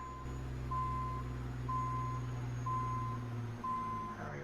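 A truck backing a trailer carrying a Cat 980K wheel loader in American Truck Simulator, its reversing alarm beeping steadily in a slow regular rhythm over a low, constant engine rumble.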